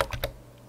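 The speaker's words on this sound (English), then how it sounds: "oops, I keep hitting that back button." Computer keyboard keys clacking in a short quick burst of three close, sharp presses, then quiet.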